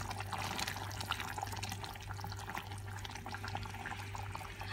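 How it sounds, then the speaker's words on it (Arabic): Boiling water is poured over uncooked white Egyptian rice. A steady, continuous rushing pour lasts the full few seconds at moderate level, alone and with a faint low hum beneath. "انا هنا حطيت ميه مغليه"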